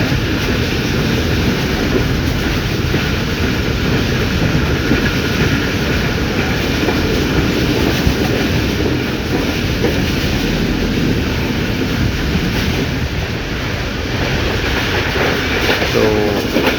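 Tezgam Express passenger train running from Karachi to Lahore on a rainy journey: a loud, constant rumble of wheels on rails with steady clatter throughout, heard from inside a carriage and with no talking.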